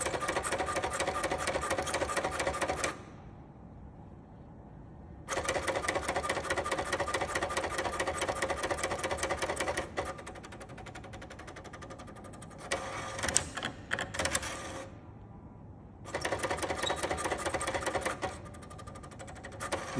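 An HP 7475A pen plotter draws a pie chart, with steady buzzing whirs of its motors in long runs separated by brief pauses and pen clicks, close and fairly loud without talk.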